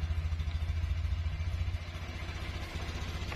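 A Honda Beat Deluxe motorcycle with an aftermarket security alarm and chip runs steadily at idle, a close, throbbing low engine putter with a faint mechanical clatter and no voices.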